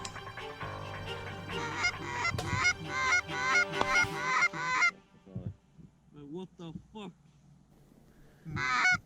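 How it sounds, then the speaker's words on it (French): Geese honk loudly and continuously as a flock lands close beside a camouflaged hunting blind during a goose hunt in Sweden, the calls thinning to scattered honks before another loud burst near the end. "Quelques oies se sont posées juste à côté de nous"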